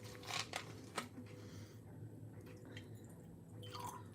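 Water trickles and drips into a paint water cup, faint splashy bursts early on followed by quieter sloshing, with no talking.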